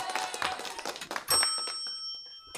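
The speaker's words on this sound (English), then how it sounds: "we can do a hotel bell ding" A bright hotel desk bell ding rings out over a noisy, clattering background, its clear tone lingering and fading over a couple of seconds.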